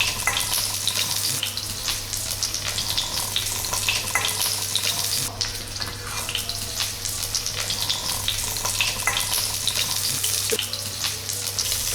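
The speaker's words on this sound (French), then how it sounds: "et déposez le magret de canard côté gras. Il faut prévoir une cuisson de 3 à 4 minutes de chaque côté." A duck breast sears fat side down in a hot pan after being salted and peppered, giving a loud, steady, continuous sizzle and spatter with no one talking.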